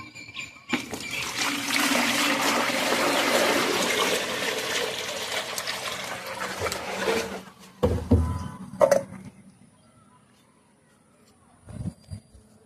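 Water is pumped up through a pipe into a rooftop tank, a steady loud rush and gurgle that runs for about seven seconds, then cuts off and leaves a few knocks and quiet.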